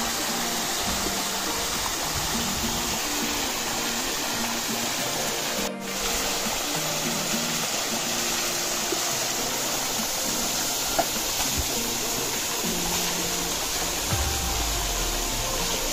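Steady broadband rushing of a waterfall at a scenic spot, a continuous loud wash with faint low tonal sounds beneath and a brief dropout partway through.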